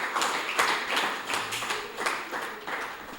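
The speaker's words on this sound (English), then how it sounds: "Could we give them a round of applause?" Poetry slam audience giving a round of applause. Soft, dense clapping from a crowd holds steady throughout at a moderate distance.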